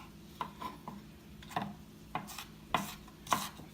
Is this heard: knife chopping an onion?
yes